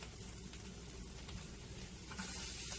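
Onions sizzling in olive oil in a pan, a faint, steady hiss of frying that swells a little louder toward the end, heard alone without talk.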